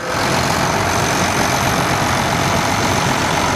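A 1976 International Harvester 1086 tractor's heavy diesel engine idles steadily and fairly close, a constant low rumble with a faint high whine, running alone without voices.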